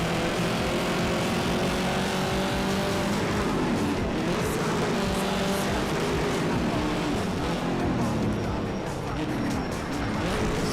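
Continuous engine roar of a race car in Need for Speed: Shift rumbles steadily throughout, with some speech mixed in.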